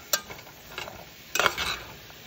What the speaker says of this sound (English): yellow squash and green squash, the carrots, and I'm going to stir fry this